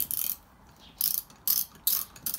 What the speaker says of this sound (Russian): Ключи с трещотками.